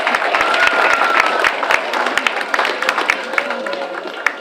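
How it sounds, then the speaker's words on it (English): A school Veterans Day event audience applauds chorus members and student readers, dense clapping that loosens into scattered individual claps, with faint crowd murmur underneath. "let's give them a round of applause, please."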